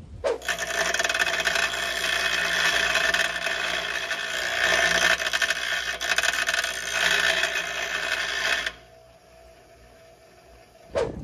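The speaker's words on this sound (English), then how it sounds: "take this pad over to a bench grinder, and I'm going to grind the ears down just a little bit" A bench grinder grinds down the ears of a brake pad from a Trailblazer with sticking brakes, a loud, harsh, steady rasping for about eight seconds before it drops away to the quieter hum of the spinning wheel.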